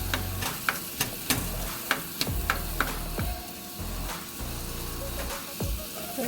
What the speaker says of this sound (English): you want this to be cooking on medium heat. So just make sure you stir it and make sure you don't burn them